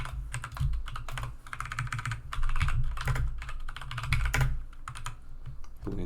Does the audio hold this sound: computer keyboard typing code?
yes